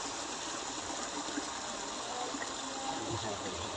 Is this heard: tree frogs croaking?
no